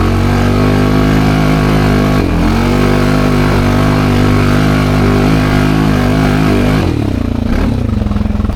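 Polaris Rubicon 700 off-road machine on mud tires working along an urban trail with rivers and tunnels, its engine droning loud and close with steady clattering, dipping briefly before a final surge.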